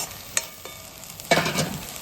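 Food frying in a pan with turmeric, with sharp clinks of a spoon and a burst of sizzling and scraping as it is stirred, close and fairly loud.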